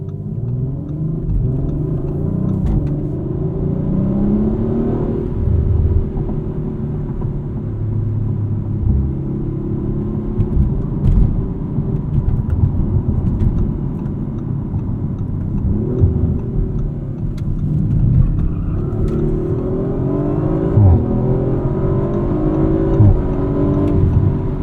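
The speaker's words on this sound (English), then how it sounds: "It kind of growls away up front." A 2023 Audi RS5 Competition Coupe accelerates on the road in sport mode, its engine growling and rumbling loudly and steadily up close, with the revs rising and falling through gear changes.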